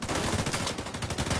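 Rapid automatic turret fire from The Division 2 rattles loudly and continuously in a dense, fast burst with no pause and no voices.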